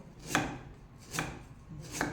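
A knife chops herbs on a board for an Isan chili dip, three separate dull thuds at a slow, even pace, close and fairly quiet with no talk.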